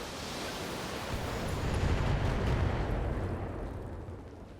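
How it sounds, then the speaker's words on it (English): A volley of LRM-10 missiles fired at a turret in the BattleTech video game, a broad rumbling roar of launches and impacts that swells to a peak midway and then slowly fades, with no voices. "I'm just going to fire the two LRM-10s"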